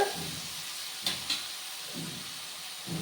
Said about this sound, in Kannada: ಅರಿಶಿನ ಪುಡಿ ಉಪ್ಪು ಹಾಕ್ಕೊಂಡ್ರೆ ಬೇಗ ಸ್ವಲ್ಪ ಈರುಳ್ಳಿ ಬೇಯುತ್ತೆ ಇವಾಗ ಇದನ್ನು ಒಂದೆರಡು ನಿಮಿಷ ಬೇಯಿಸ್ಕೊಳ್ಳೋಣ